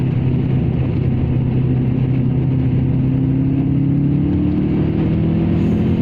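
A Subaru Impreza engine revs hard and steadily, a loud continuous drone whose pitch climbs gradually toward the end, with no voices over it.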